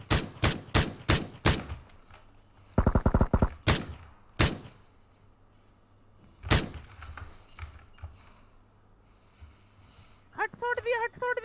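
Gunfire in PUBG: a rapid string of loud single shots, then a tight automatic burst, then scattered isolated shots with quiet gaps, close and punchy, with voices chattering near the end.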